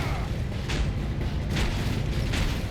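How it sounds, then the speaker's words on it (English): Explosions in the open-world game Red Faction Guerrilla, a dense low rumble with several sharp bursts and booms in close succession, loud and continuous over the whole stretch. "Ow, ow, explosions."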